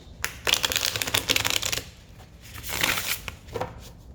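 Crisp riffling bursts of a new deck of cards being shuffled, two distinct flurries of rapid flicking with a short pause between, close and fairly loud.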